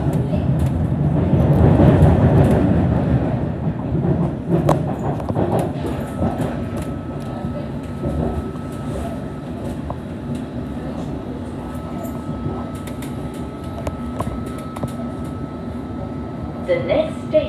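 A Metropolitan line Underground train on the London network rumbles along at speed, with a loud, steady low roar and faint track clatter that eases slightly after the first few seconds.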